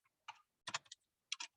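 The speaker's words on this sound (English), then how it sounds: "let me make sure that I can actually type in here" Quiet bursts of typing on a computer keyboard, a few short clusters of soft key clicks separated by brief pauses, faint and close, with no voices.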